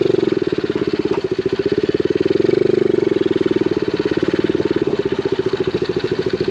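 An X7 super pocket bike's small engine buzzes steadily with a rapid, pulsing putter while riding over grass, close and fairly loud, swelling slightly midway.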